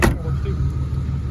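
The power window of a 1990 Pontiac Grand Prix STE runs with a brief, low electric motor hum after a short knock, heard close up inside the car.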